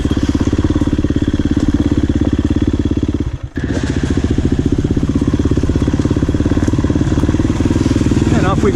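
A KTM 350 EXC-F dirt bike on a woodland trail loop at NATRA in West Point, Tennessee, its engine droning loud and steady nearby, briefly dropping off before pulling away again with a rattling, throaty note.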